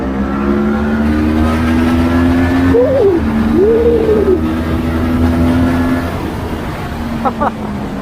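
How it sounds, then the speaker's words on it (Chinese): A QJmotor Flash 600 V4 motorcycle on a race track holds a steady high-rpm engine drone with a quick rising and falling rev swing in the middle, loud and continuous throughout. "我们可以尽情的享受万转以上的 V4 声浪来了"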